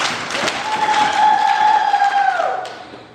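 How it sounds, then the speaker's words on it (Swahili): An audience at a district government event in Ludewa applauds with a dense, steady clapping. A sustained ringing feedback whistle sounds above it before the clapping fades. "Naomba tupige makofi."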